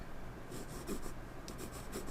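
Derwent Inktense pencil swatching on paper, a few short, soft scratchy strokes in quick succession, close and quiet with no talking.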